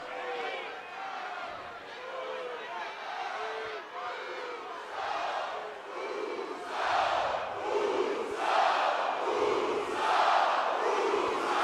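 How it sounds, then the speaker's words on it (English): A large wrestling arena crowd at Monday Night Raw in Minneapolis roars and chants continuously, swelling louder in rhythmic surges toward the end. "This crowd is very good tonight."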